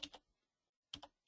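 Brief bursts of computer keyboard typing as a link is entered into a chat: a short quick cluster of keystrokes, a pause of near silence, then two more clusters, close and fairly quiet.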